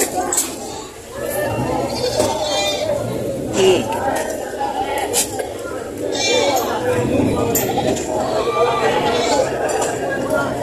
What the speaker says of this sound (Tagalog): Dami kayo nagdating na kambing.